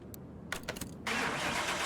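A 1975 Ford Bronco engine starts with a few quick cranking bursts, then catches into a steady, fairly quiet running rumble.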